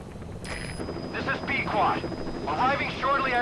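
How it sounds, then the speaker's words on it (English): Helicopter arriving in Metal Gear Solid, a steady rotor drone and wind-like rush building in loudness, with game sound effects and a voice speaking over it. "I hear the helicopter. Coming from this way."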